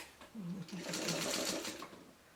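A sewing machine stitching a quilt block seam runs in a short, close burst of whirring under faint background talk.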